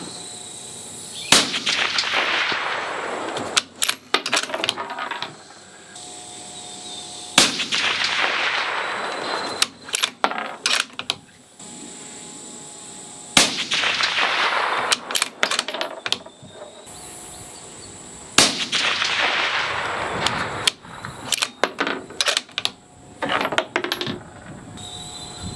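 An AI AT rifle loaded with factory ammunition fires four loud, sharp shots spaced several seconds apart, each followed by clicks and clatter of the bolt and handling, with no talk.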